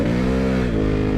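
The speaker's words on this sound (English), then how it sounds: "bit of wheel spin there when we give it a bit of clutch kick" A 2016 Honda Africa Twin motorcycle revs hard with brief wheel spin, a loud, steady, close engine roar holding for just over a second with no talk.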